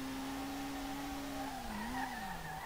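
A D1GP-spec Nissan R32 drifting in the SLRR racing game, a steady engine drone with a sustained tire squeal that wavers and dips in pitch, continuous and fairly quiet, no talk.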